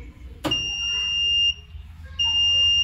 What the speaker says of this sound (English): Now I've opened it, so it's giving an alarm.